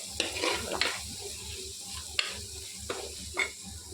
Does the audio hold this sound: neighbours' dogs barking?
no